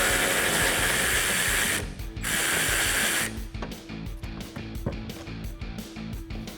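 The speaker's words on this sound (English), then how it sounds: "Now grab your 7mm socket again." A 7mm socket ratchet works a bolt loose on the rear bumper of a 2019-2021 Chevrolet Silverado or GMC Sierra 1500 pickup. A rough rushing noise comes first, then a run of quick, close mechanical clicks.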